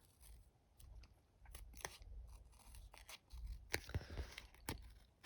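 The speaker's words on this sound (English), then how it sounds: "let's just trim across the top there" Teflon-coated scissors trim across sticky Stampin' Up paper, giving a series of quiet, sharp snips and crisp cutting crunches at an uneven pace, close to the mic.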